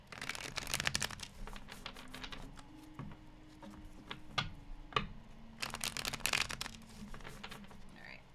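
Tarot cards riffle and flutter in quick, dense bursts of shuffling with brief pauses between, close and fairly quiet.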